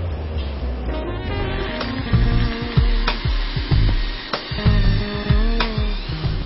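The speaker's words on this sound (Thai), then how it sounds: "เราก็จะใช้สว่านนะคะเจาะรูลงไปค่ะ" Short bursts of a small electric drill boring holes whir on and off repeatedly, each a few seconds long, with low rumbling handling noise between them.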